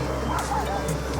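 Several dogs bark, yip and whimper in a scuffle, a run of close, overlapping yelps and barks with a person talking faintly underneath.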